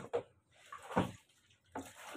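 Water splashes while a dog is being bathed, in three short, separate bursts spaced about a second apart with quiet gaps between them.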